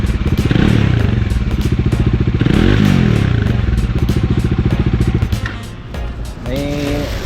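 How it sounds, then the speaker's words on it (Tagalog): A Bajaj Dominar 400 motorcycle engine at high RPM with a rattling fault, a loud, steady rapid-pulsing engine drone with clattering texture, close by, dropping briefly near the end. "parang may kumakalansing or parang tumutunog daw sa loob ng makina natin habang high"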